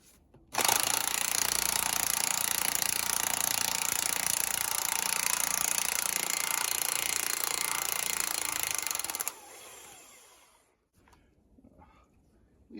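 An impact wrench hammers loose U-joint bolts on a truck driveshaft, a loud continuous rattling burst that runs for about nine seconds before cutting off, followed by faint shop noise.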